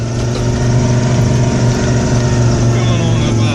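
A 1995 Ford F150 pickup with a bad alternator drives along with its engine droning loud and steady, a strong low hum holding throughout as it picks up speed on level ground.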